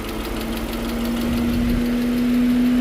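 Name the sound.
engine idling with ticking tap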